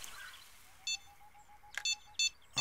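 Electronic bite alarm in the Fishing Planet video game, with a steady faint tone running underneath and then a few short, bright beeps in quick bursts near the end, quiet against a low background.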